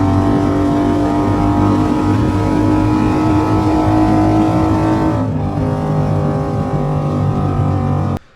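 A Triumph Bobber motorcycle pulling hard in third gear with the throttle held open, a loud continuous engine drone with wind rush, steady and close, ending abruptly.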